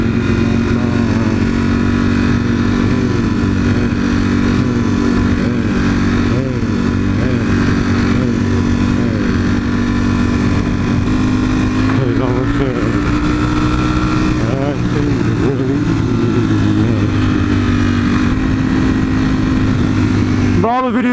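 A V4 motorcycle engine drones loudly and continuously while riding, the pitch shifting as the throttle changes, with a rider's voice faintly audible over it.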